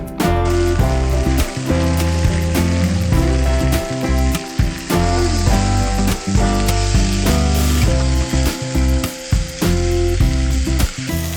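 Loud, continuous sizzling of hare meat frying in a hot grill pan, crackling and spitting throughout with occasional brief dips.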